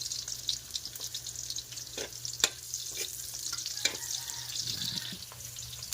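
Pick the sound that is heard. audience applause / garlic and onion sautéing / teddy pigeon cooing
garlic and onion sautéing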